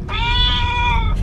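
Recorded cat meow played back for a child, one drawn-out, clear, fairly loud meow lasting about a second over a low background rumble.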